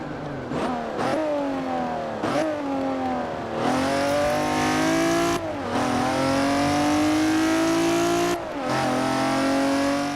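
A Regelia Type-D sports car engine in Forza Horizon 4 revs and accelerates through several gear changes, with a whooshing turbo intake noise over the rising drone, loud and close.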